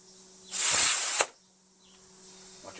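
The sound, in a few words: air compressor inflating lawn mower tire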